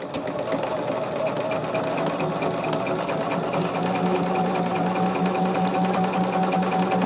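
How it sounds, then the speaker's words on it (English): A sewing machine stitches a quilt seam at a quarter inch, a steady, close mechanical whir with a fast even rhythm running without a break and no talking. "we are going to be sewing it at that 1/4 of an inch"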